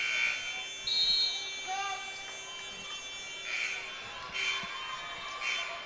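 A malfunctioning scoreboard buzzer sounds in a school gym during a varsity girls basketball game, several short electronic bursts repeating over crowd murmur and reverberant hall noise.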